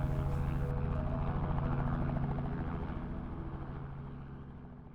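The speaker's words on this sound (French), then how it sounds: "hélicoptères et ULM en tout genre défilent sur les taxiways" A helicopter's steady whirring engine and rotor drone on an airfield taxiway among ultralight aircraft, loud and continuous at first, then slowly fading as it moves away.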